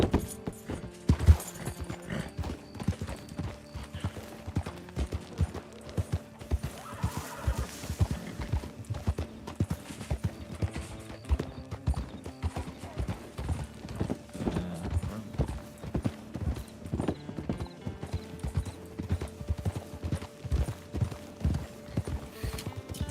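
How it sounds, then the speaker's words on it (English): Rhythmic clip-clop of hooves continues throughout at a steady trot, with a brief whinny partway through and a soft musical backdrop. "This damn horse."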